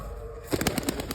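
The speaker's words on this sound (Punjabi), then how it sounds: "ਇਹ ਬੜਾ ਕਬੂਤਰ ਆ" A pigeon being released takes off with a quick burst of wing flaps, several rapid close claps in the second half after a quieter start.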